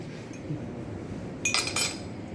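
Glass clinks a couple of times in quick succession as Irish coffee is moved into a shooter glass, bright and close over a quiet room background.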